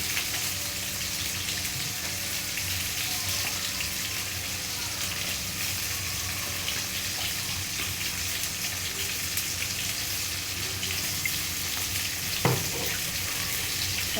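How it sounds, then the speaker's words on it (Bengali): Oil heats in a kadai before stir-fried water spinach is made, giving a steady, moderately loud hissing sizzle that lasts the whole time. A single soft knock sounds near the end, and no voices are heard. "কলমি শাক ভাজির জন্য আমি কড়াইয়ে তেল দিয়ে দিচ্ছি"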